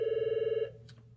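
A telephone bell rings in a rapid trilling burst that cuts off after about half a second, leaving faint room noise and a small click.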